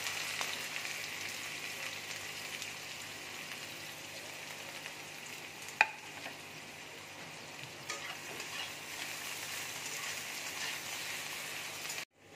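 Chopped onion sizzles steadily in hot oil, a continuous frying hiss with occasional stirring scrapes and one sharp clink near the middle, ending abruptly.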